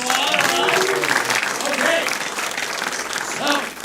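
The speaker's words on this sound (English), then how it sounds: "Clap for that" Audience applause rises at a live stage event and fills the whole stretch, with voices and cheering mixed into the steady clapping.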